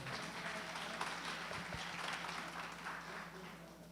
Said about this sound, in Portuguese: Palmas para a Eliane, por favor.